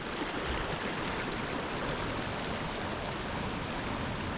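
River water rushing steadily in a Monteverde, Costa Rica forest, a dense, even broadband wash that stays constant and fairly close throughout, with no voices over it.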